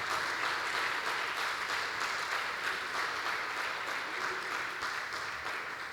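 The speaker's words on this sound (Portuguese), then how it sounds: "Pode aplaudir a palavra de Deus mesmo." A church congregation applauds during a Portuguese-language sermon, a steady, dense wash of clapping that holds evenly for the whole stretch without pause.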